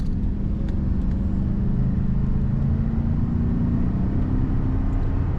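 A 2000 Cadillac Eldorado ETC with automatic transmission accelerates, heard from inside as a steady low engine rumble with road noise rising gradually in pitch.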